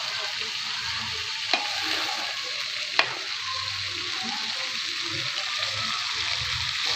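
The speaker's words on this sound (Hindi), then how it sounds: "अभी हम प्याज को फ्राई करेंगे और इसको सिर्फ पकाने दें" Onions frying in oil in a pan for bhindi masala, a steady close sizzle with stirring scrapes and two sharp clicks of a utensil against the pan.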